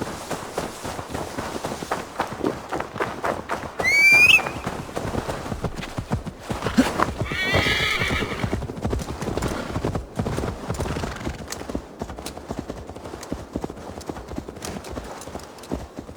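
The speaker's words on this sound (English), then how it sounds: "Now to deliver Magni his horse." Horse hooves clip-clop steadily in Assassin's Creed Valhalla. A shrill neigh breaks in early, then a longer whinny, over a continuous game soundscape.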